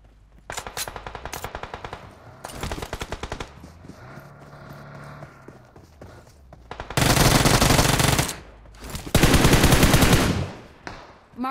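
Bursts of automatic gunfire in PUBG Mobile on the Nusa map, several rapid rattling volleys at close range, the last two long and loud, with quieter single shots in between and no talk.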